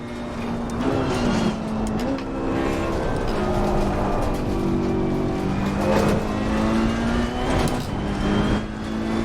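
Ferrari 488 Challenge Evo race car engine from Assetto Corsa Competizione at Oulton Park, a loud, continuous high-revving whine that rises and falls with gear changes and throttle, heard alone without talk.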